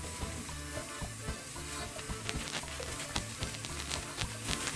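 Coconut milk, tomato paste, chipotle puree, fried onions and garlic simmering and thickening in a pan, a dense continuous bubbling sizzle with crackling bursts and occasional stirring clinks, close and steady, without talk.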